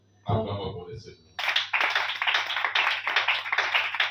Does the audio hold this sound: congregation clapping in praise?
yes